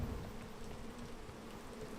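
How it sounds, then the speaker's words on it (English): Bees buzz in the video game PEAK with a close, steady insect drone that fills the brief moment. No voice is heard. "The bees are on me."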